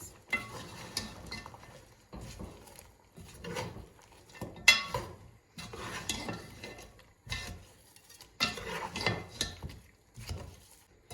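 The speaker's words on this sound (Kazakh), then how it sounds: "Пиязымызды саламыз. Араластырамыз." A spoon stirs chopped onions into meat in a kazan, giving irregular scraping and clinking bursts, each lasting a second or two, separated by brief quiet gaps, fairly close and moderately loud.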